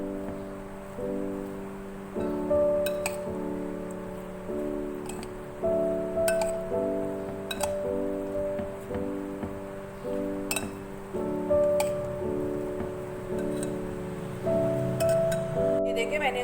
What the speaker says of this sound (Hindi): अब इन सारी चीज़ों को अच्छी तरह से मिक्स कर लेंगे।